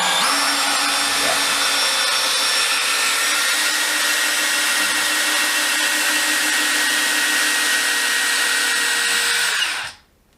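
A DeWalt 12V brushless DCD701 drill backs a screw out, its motor a loud, steady high whine held for about ten seconds before cutting off abruptly, with no talking.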